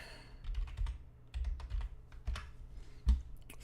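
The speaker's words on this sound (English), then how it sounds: "Sorry if you hear me click-clacking" Fingers type on a computer keyboard in irregular bursts of crisp clicks and clacks, fairly close, separated by short pauses, with no talking.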